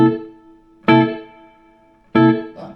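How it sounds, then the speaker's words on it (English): Electric guitar played through a Fender Blues Junior Version 4 Limited Edition amp with reverb around 3, two loud struck chords about a second apart, each ringing out with a reverberant sustain and decay. "The reverb's on about number 3, and the reverb is a lot nicer now."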